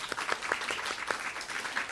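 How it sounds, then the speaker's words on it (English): A small round of applause at a governor's bill-signing ceremony on judiciary legislation, steady scattered clapping from a modest crowd, fairly close and moderate in level. "just a small round of applause for CJ."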